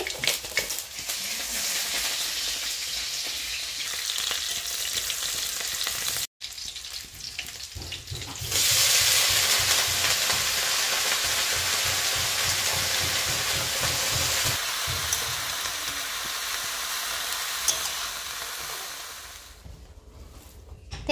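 Cabbage ghonto sizzles and fries in a pan in a home kitchen, making a steady hiss that grows louder midway, with stirring scrapes and no talk.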